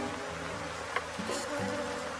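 Honey bees buzz around hive boxes in a brief, steady, moderately close drone, with a few individual wingbeats passing nearby and no one talking.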